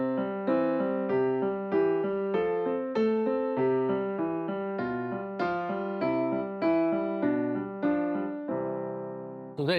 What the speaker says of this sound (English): Now, normally when we play Twinkle, Twinkle Little Stars, it might sound like this.